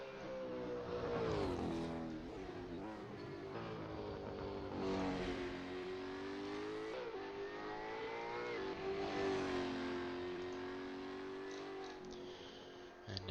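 Supercars race cars, among them a Nissan Altima, scream past at high revs during qualifying and the top 10 shootout at the 1000. The engines whine and rise and fall continuously as the cars pass.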